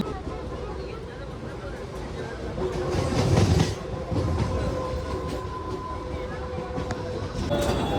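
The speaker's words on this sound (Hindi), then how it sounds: "अब हमारी ट्रेन भी आ चुकी है" A train arrives and runs at a busy Mumbai station, with rumbling wheels, clattering and a loud surge as it passes, over steady crowd noise and talking.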